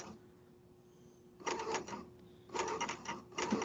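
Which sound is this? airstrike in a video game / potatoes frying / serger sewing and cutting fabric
serger sewing and cutting fabric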